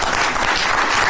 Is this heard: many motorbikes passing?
no